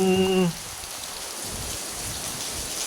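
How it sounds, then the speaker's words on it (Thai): Steady rain patters down as a continuous hiss after a brief tonal sound at the start. "ฝนตก ฝนตก รินรินหอมกลิ่นดินไอฝน"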